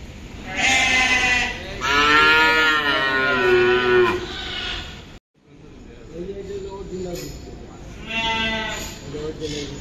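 Cattle lowing at a busy livestock market during the Qurbani Eid season, with long drawn-out moos and bleat-like calls close by, broken by a brief pause, with people talking nearby.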